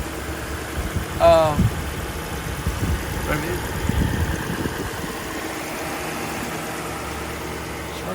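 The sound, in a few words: 2001 Lexus LS 430 engine idling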